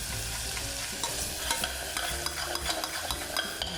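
Spices, garlic and ginger frying in oil with garam masala, a busy sizzle broken by scraping stirs and small crackles over a few seconds, close up and without speech.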